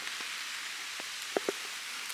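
Steady rain patters on a Jeep parked at Uwharrie, a soft continuous hiss broken by a few sharper drips close by; no one speaks.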